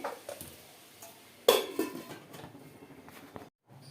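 A lid goes onto a pot of drumstick-flower egg curry with one sharp metallic clank, followed by a few faint rattles and light clinks against quiet kitchen background.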